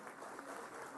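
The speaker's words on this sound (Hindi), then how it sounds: "हमारी जोरदार तालियों के साथ हम स्वागत करेंगे" An audience applauds to welcome a guest at the All India Presiding Officers' Conference, a dense steady wash of clapping heard at a distance for about a second.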